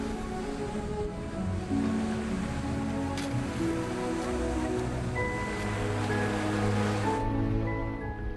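Ocean waves around a small boat off a remote island, a steady wash of surf and splashing water with faint tonal hums beneath, moderately loud and unbroken, no speech.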